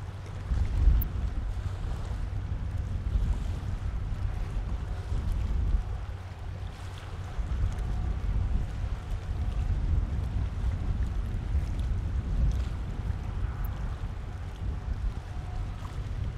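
The Severn Lady boat labours against strong wind and an incoming tide near the end of a pier, heard as a steady low engine rumble under continuous wind buffeting and water noise, with no voices.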